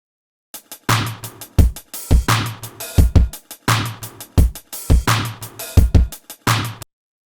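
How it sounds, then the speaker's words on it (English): A punchy drum loop with an added clap and an extra kick repeats in a steady, tight rhythm, loud and close, with sharp hits and short gaps and no talk. "Now that I've separated those out and added an extra clap sound and an extra kick sound in there."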